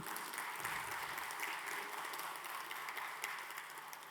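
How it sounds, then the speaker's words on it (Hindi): An audience at a talk gives sustained, enthusiastic applause, a steady wash of many hands clapping at a distance, even and unbroken, with no voices on top. "ताली बजानी तो जोरदार बजानी चाहिए"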